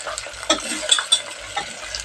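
Cauliflower, tomato and potato stirred into browned onion in a frying pan, with a steady hiss of frying under a few sharp scrapes and clinks of the spoon against the pan.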